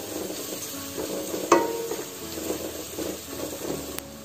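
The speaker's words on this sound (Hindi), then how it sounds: "और बस अच्छे से मसालों को मिक्स कर लिया" Spices frying in a pan are stirred for a bread snack, giving a soft, steady sizzle with light scraping strokes and one sharp clink from a utensil.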